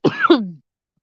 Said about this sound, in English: I'm coughing up a storm here